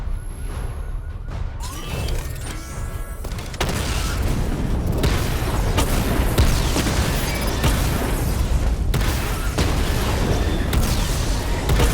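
Missile barrage explosions in Batman: Arkham Knight, a dense rolling run of booms and crashes that grows louder after the first few seconds and continues steadily to the end.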